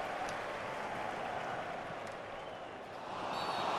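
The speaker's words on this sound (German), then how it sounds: "Und jetzt darf er sich seinen verdienten Applaus abholen." Stadium crowd applause in a football video game career match, SV Wehen Wiesbaden versus RW Erfurt, a steady dense wash of clapping and crowd noise that swells slightly toward the end.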